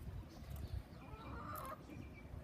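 Chickens in a backyard coop cluck faintly and sporadically over a low hiss of background noise, distant and quiet throughout, with no voices.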